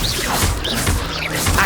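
An Incendio fire spell cast in the Hogwarts Legacy game, with whooshing flame bursts and thuds recurring quickly over a busy game mix.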